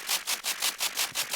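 Bright, hissing synthesized white noise from a Serum synth pulses in a steady rhythm of about eight swells, each whooshing up and fading, fairly quiet with no voices.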